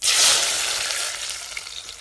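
Cumin and onion hit hot oil in a pan for a green pigeon pea curry, bursting into a loud, bright sizzle that slowly settles into a steady crackle, with no voices.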